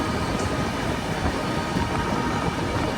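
Chennai Duronto Express running at speed past Agra, a loud continuous rumble and roar of the moving train heard from on board, with no talking.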